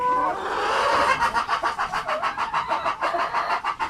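Chickens on a farm in Cebu province, Philippines, clucking close by in a quick, steady run of short repeated calls that grows louder and more rhythmic after the first second, with no talk.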